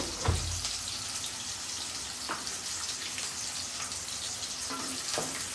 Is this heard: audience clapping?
no